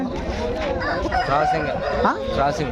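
A Sankranti fighting rooster crows loudly and close, one long drawn-out call over a background of people talking.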